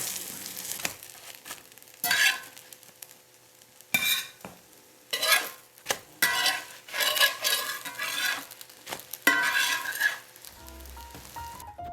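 A pancake cooks in a frying pan over low heat on a farm, with bursts of sizzling and frying hiss broken by occasional scraping and clinking of a utensil against the pan.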